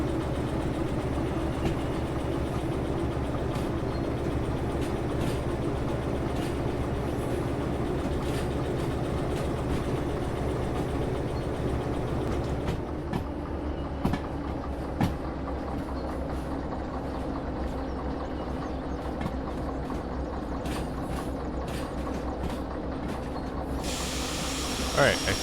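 A locomotive in the Derail Valley train game shoves a string of railroad cars, giving a steady low rumble with hissing and scattered clanks and clicks of the wagons, continuous throughout at moderate level.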